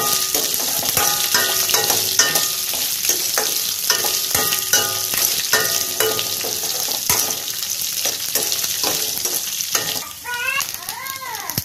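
Large bajji chillies sauté in a hot pan for a chutney, giving a steady, close sizzle broken by repeated scraping and clinking strokes as they are stirred, with no talking.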